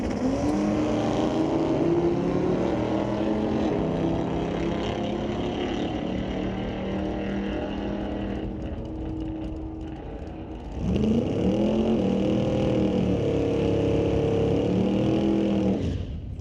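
Race cars thunder through qualifying at Mission Raceway Park, loud engines roaring and revving with rising, sweeping pitch, fading briefly mid-way before another car bursts in close and strong.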